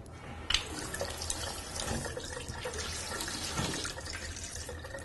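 Water runs from a foot-pedal sink tap into a basin, a steady close splashing flow with small drips and sloshes, heard alone without talk.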